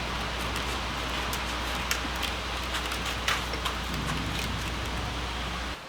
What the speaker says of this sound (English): just now got our first drop of rains